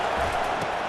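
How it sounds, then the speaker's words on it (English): Roaring stadium crowd noise fills a college football game in EA Sports College Football 25, a dense, steady wash of cheering with no clear break. "It is getting loud as this crowd tries to help its defense."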